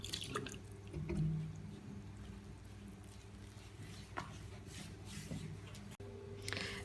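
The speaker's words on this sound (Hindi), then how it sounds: "अब हम इसके आटे के हिसाब के साथ ही इसके अंदर हम पानी ऐड करेंगे थोड़ा सा, जिससे हमारा आटा सही से गूंद जाए।" Water is poured into flour in a bowl while kneading pizza dough at home, giving faint dripping and splashing over a steady background hum.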